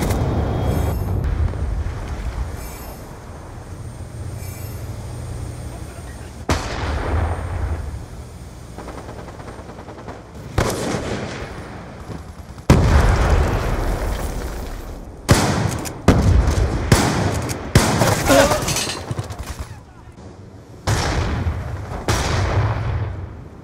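Heavy explosions and gunfire from a missile strike in Call of Duty Black Ops 2 team deathmatch, with repeated loud booms spread across the clip and bursts of shots between them, all without talk.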